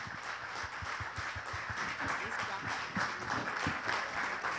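An audience at an evening political festival gives steady, dense applause that carries on throughout at moderate distance, with a voice partly heard underneath.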